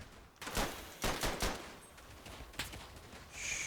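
Scattered gunfire crackles in Verdun, the First World War shooter, with a few sharp close shots and quick clusters among distant battlefield noise, and no voices.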